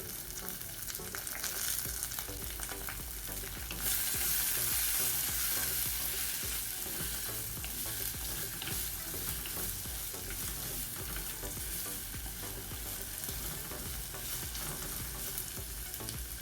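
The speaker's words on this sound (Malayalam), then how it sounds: "എന്നിട്ട് എല്ലാം കൂടി ഒന്ന് നന്നായിട്ട് വഴറ്റിയെടുക്കാം" Bitter gourd with grated coconut, onion and tomato sautéing in a pan, giving a continuous loud frying hiss with soft stirring scrapes throughout, close up, without talk.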